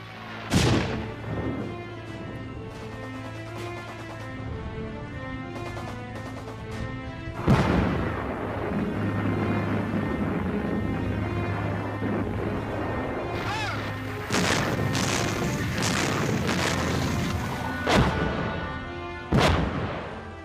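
Canadian artillery guns open fire in the Liri Valley assault, several sharp booms spaced irregularly through a constant low rumble, with heavy blasts standing out near the start, middle and end.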